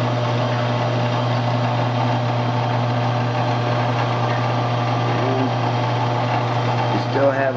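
A grinder works on a chuck top jaw with a steady, loud motor hum and a grinding whine that holds throughout, while a person talks over it.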